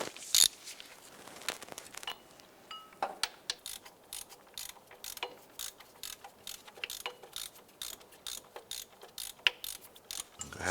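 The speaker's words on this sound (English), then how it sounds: "we're going to use a 15mm deep socket with our ratchet" A ratchet with a 15mm deep socket loosens and removes an alternator bolt on a 2011-2019 Ford Fiesta, giving steady rapid clicking bursts close up across the whole stretch, with no talking.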